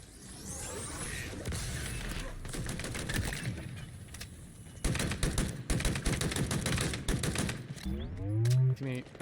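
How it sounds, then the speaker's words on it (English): Rapid bursts of automatic gunfire from a machine gun in a Halo Infinite Big Team Battle match ring out amid game sounds, with a louder volley in the second half and a voice briefly heard in the mix. "Machine guns suit you, Spartan."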